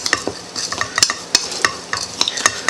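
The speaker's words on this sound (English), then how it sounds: "we're just gonna get this stuff all stirred around pretty good" A spoon stirs a baked apple filling mixture in a bowl, making a string of sharp scraping clicks and soft wet shuffles. The sounds are irregular, close and fairly loud, with no talking.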